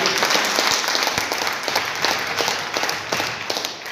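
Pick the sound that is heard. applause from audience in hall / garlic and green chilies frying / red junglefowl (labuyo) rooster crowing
applause from audience in hall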